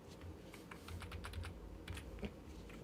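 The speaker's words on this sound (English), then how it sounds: "So we're gonna type in right here." Keys clattering on a computer keyboard as a website address is typed, a quick irregular patter of close, moderately loud keystrokes with small pauses between bursts.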